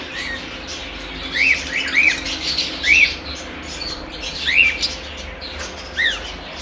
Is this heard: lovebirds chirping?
yes